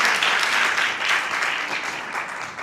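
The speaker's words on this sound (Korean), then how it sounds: "격려의 박수를 주고 싶습니다." Applause of encouragement from a church congregation after a youth group led worship, a steady wash of many hands clapping together throughout, fairly loud and even, with no voices over it.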